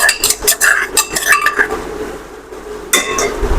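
A spoon stirs tomatoes and ginger-garlic paste in a pan, giving repeated close clinks and scrapes of metal on metal, with a quieter stretch before a final burst of clatter.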